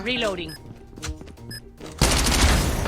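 Type 25 assault rifle fire in Call of Duty, with several short bursts of shots, then a sudden loud barrage of rapid gunfire in the last second. Someone talks over the early part.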